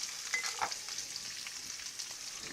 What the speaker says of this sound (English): I've already pre-chopped 1 onion and 1 green pepper. And we're going to start sauteing that